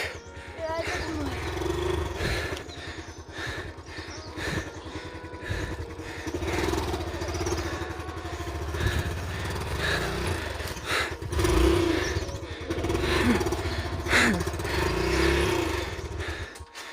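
A motorcycle engine runs close by as someone learns to ride, idling and revving unevenly with rises and dips in pitch, while people talk throughout.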